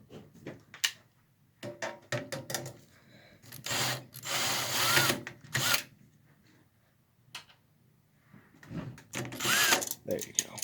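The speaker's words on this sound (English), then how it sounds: "I'm going to take my drill" A power drill backs out the power supply screws of a Dell Optiplex 790 desktop, with several short whirring bursts and clicks at close range between pauses and quiet handling noises.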